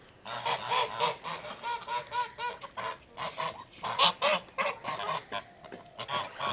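Geese honk repeatedly in a noisy, overlapping chorus, loud and close, with short rhythmic calls tumbling over each other.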